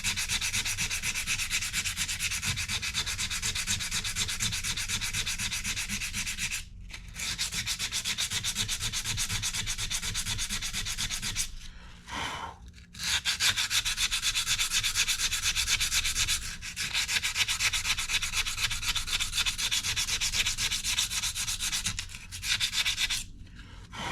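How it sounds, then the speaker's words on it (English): Sandpaper is rubbed by hand over a steering box for cleanup in steady rasping strokes, loud and continuous, broken by a few brief pauses. "Just gonna take a little sandpaper, clean it up a little bit so we can see our marks."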